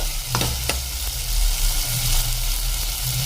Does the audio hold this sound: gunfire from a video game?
no